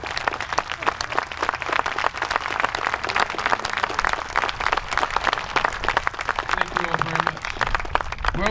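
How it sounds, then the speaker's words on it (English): Outdoor audience applauding Vietnam veterans during an honor wreath presentation at the Vietnam Veterans Memorial Wall, a steady, dense wash of clapping lasting throughout with a faint voice near the end. "Give them all a round of applause."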